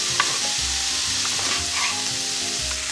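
Chopped onion sizzles and fries in a pan for a dish of rice with vegetables, a steady crackling hiss with soft scraping as it is stirred, close and continuous with no talking.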